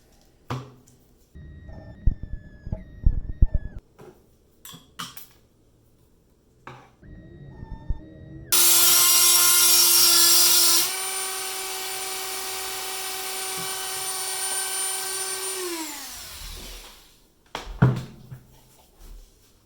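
Abrasive cutting wheel grinding through a steel knife: a loud, steady high-pitched whine lasting several seconds that slowly drops in pitch as it winds down, preceded and followed by scattered clinks and handling noises.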